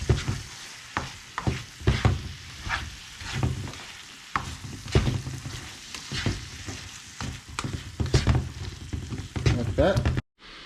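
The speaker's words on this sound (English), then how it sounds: "So now that filling is cooking now, I'm gonna cook it for about 10 minutes" Beef filling for beef patties sizzles and fries in a pan while being stirred, with repeated scraping strokes of a utensil over a constant crackle.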